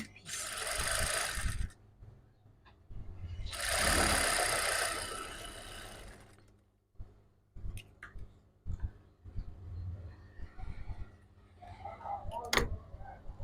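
A sewing machine stitches the side seam of a bustier panel in two sustained whirring runs, with quieter handling clicks and rustles in the pauses and near the end.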